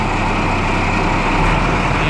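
An overhauled tractor engine idles steadily with an even, unbroken drone, close and loud, with no misses or stumbles across the short stretch.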